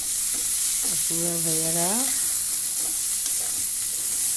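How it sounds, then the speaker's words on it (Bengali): Cauliflower fries with a loud, constant sizzle in the same pan just used to fry fish, close by, while a voice speaks briefly over it partway through. "এখন আমি মাছের কড়াইতেই ফুলকপিটি ভেজে ফেলবো"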